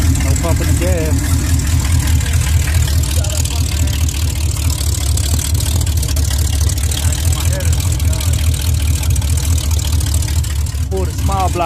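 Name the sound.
GMC short wide truck engine starting and idling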